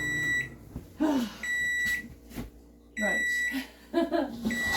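A new microwave oven beeps in a kitchen, sending out about four sustained electronic tones spaced a second or so apart, with brief rustling and a voice between them.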